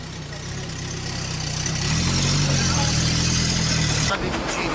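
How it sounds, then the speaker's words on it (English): A vintage Fiat 124 sports car's engine idles and then swells into a steady, loud low rumble that holds before dropping off near the end, heard close up on a wedding day near Sorrento. "Fiat 124, old vintage sports car, absolutely mint in condition."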